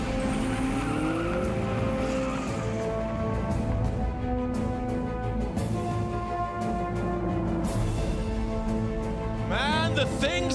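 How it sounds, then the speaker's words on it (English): Cars in a chase scene roar at close range, engines revving and shifting under a continuous din, with a sharp skid of squealing tires near the end. "Oh, man, that car chase!"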